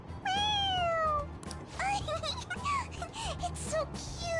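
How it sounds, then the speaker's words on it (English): A squeezable toy cat from Persona 5 lets out a bright, close meow, then several quicker, shorter mews follow amid light chatter and game background sound. "It meows when you press on its head."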